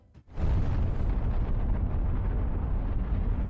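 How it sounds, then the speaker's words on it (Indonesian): A loud, deep bomb explosion in a film bursts suddenly and rolls on as a heavy, rumbling roar that stays strong for several seconds. "bom itu pun meledak"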